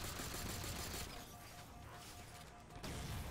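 Dense, continuous gunfire from a weapon in the Halo 4 video game, a steady loud rattle that eases slightly in the middle before returning at full strength.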